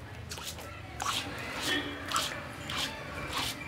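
Water sloshes and drips as a stone grinding slab is washed, several short wet squishes at a faint, close level.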